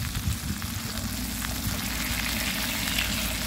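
Galunggong fish frying in a pan, a steady dense sizzle and crackle of hot oil that runs evenly throughout, close and continuous with no voices.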